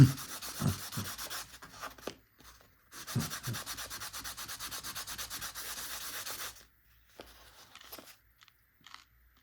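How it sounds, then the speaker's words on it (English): Fine-grit sandpaper, 600 to 800 grit, rubs back and forth over the tension discs of a Singer 401A sewing machine in close, steady scratchy strokes, two long bursts split by short pauses, with a few light scrapes trailing off at the end. "600, 700, 800 grit, that's good sandpaper to use"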